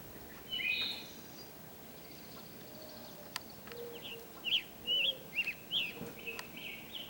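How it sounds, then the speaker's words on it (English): Hairy woodpecker giving a string of short, sharp calls, several quick peeps in a cluster, fairly faint against quiet outdoor background. "now here we have a hairy woodpecker"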